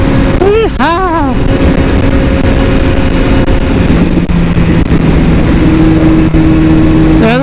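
A BMW S1000RR sport motorcycle engine revs and accelerates loudly, its pitch sweeping up through gear changes with a strong, continuous roar close to the listener.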